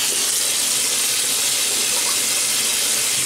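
Running water pours steadily from a tap into a sink, a continuous broadband splashing hiss with no voices, used to wet the face before a shave.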